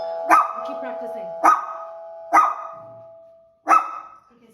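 A dog barks four times in short, separated woofs, close and loud, with a ringing ding-like tone under the first barks, as if set off by a doorbell during a training session.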